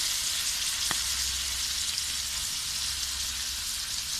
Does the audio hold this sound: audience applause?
no